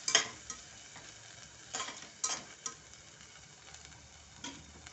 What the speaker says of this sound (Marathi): आता हे मसाले छान आपल्याला परतायचे आहेत